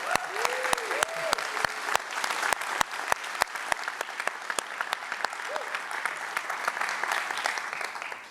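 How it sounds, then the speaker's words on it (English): A conference crowd applauds with dense, continuous clapping that stays fairly even throughout, heard from within the audience with sharp individual claps standing out on top. "I want the crowd to give Expo a round of applause"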